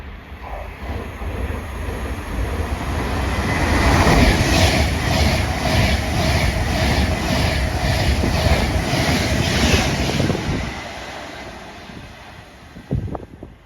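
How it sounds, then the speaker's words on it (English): An Avanti West Coast passenger service from Wolverhampton to London Euston passes through a station, a loud rushing roar with rhythmic wheel clatter over rail joints that swells, holds, then fades, with wind buffeting the microphone. "about to pass through is going to be another Avanti West Coast service running from Wolverhampton to London Euston"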